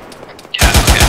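GPMG machine gun in a military video game: after a half-second of quiet, a loud burst of rapid automatic fire kicks in, rounds cracking in a fast steady rhythm.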